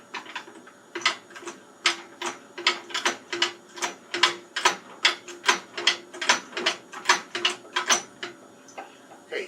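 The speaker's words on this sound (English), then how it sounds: "when I take the floor jack and I lift on the front axle" Floor jack lifting a car's front axle, a steady run of about twenty evenly spaced ratcheting clicks from close by, pumping at a brisk, regular rhythm.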